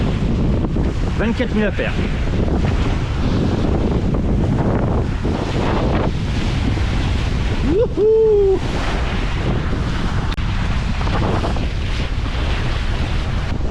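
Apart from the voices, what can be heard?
breaking ocean waves and wind on a sailboat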